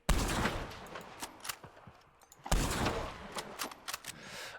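Rifle fire in Red Dead Redemption 2 from the Cocaine rifle: two loud, sharp bursts of shots, each followed by a ringing tail and a scatter of metallic clicks.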